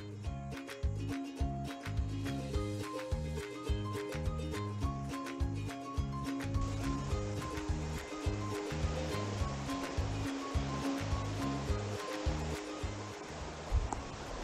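Waves wash onto the shore near Whariwharangi Beach in Abel Tasman National Park, a soft, distant surf hiss carried under a rhythmic, repeating low thumping pattern that runs through the whole stretch.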